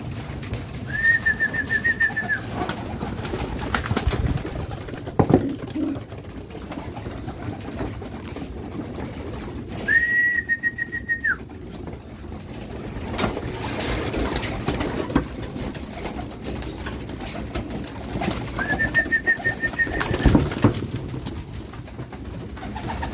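Racing pigeons cooing while being fed, soft throaty coos recurring several times at roughly regular intervals over a low background rumble, with no talking.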